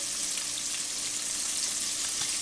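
Chicken tenders fry in hot oil, coated for crispy McDonald's-style fingers, giving a steady, dense sizzle with small crackles and pops close by and no talk.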